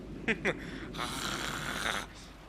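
A snoring sound effect from the visual novel game Umineko When They Cry: two short sharp snorts, then a longer raspy, drawn-out snore, fairly close and alone.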